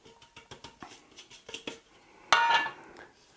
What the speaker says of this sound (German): und alles gut durchmischen